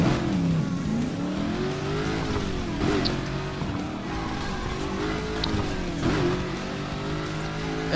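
Car engine revving and driving in Burnout Paradise Remastered, a close, sustained engine note rising and falling with throttle and gear changes, accompanied by brief sharp impacts or scrapes.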